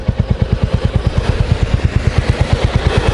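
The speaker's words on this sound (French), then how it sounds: "Alors qu'est-ce que ça donne les pots? Ah ouais, ça fait plus de bruit quand tu es à côté que sur la moto en fait." A 2024 Royal Enfield 350 Bullet motorcycle idles with its exhaust thumping in a steady, rapid single-cylinder beat, loud and close, with a slight mechanical clatter and no talk over it.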